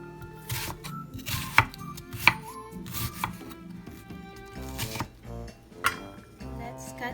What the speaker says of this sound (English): And let's chop the onion.